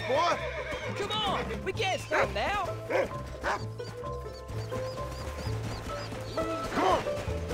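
In the video game Red Dead Redemption, a horse whinnies in several rising calls mixed with repeated dog barks and yips, with hoof clip-clop and a low game background underneath.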